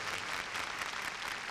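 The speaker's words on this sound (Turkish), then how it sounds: "Ve şimdi hep birlikte İsa Mesih'e koca bir alkış verelim." Church service congregation giving a steady round of applause, dense continuous clapping from a crowd with no talk over it.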